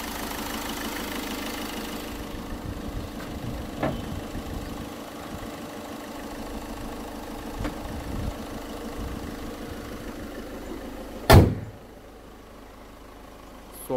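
A 2014 Ford EcoSport Titanium 1.5 diesel idles steadily with an even, low mechanical clatter and a faint knock throughout, interrupted near the end by a brief loud thump before the idle carries on more quietly.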